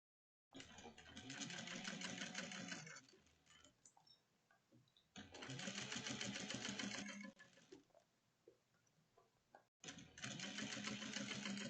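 A sewing machine top stitches a drawstring bucket at 1/8 inch in three steady bursts of whirring needle, each running a few seconds and separated by short pauses, close and clear with a few soft clicks between runs.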